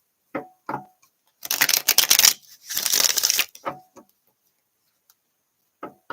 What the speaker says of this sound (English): Get a good shuffle on this.